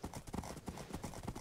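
Horse hooves galloping in a Minecraft party minigame, a fast, even clip-clop rhythm that is fairly faint and runs without talk.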